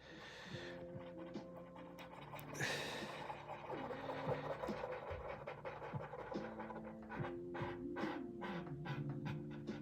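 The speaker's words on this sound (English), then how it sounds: "It's like this hilarious bulldog snore." A sleeping bulldog snores and pants softly in the background of a quiet room, a steady, faint rhythm of breaths with no voices over it.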